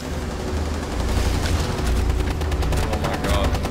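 Rapid bursts of gunfire from Rainbow Six Siege, loud and close, with repeated shots in a tight, uneven rhythm and booming low thuds continuing throughout.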